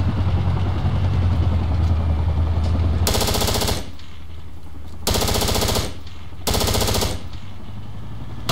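.50 cal machine gun fire in the Project Reality video game, three loud bursts of rapid automatic fire over a constant engine drone.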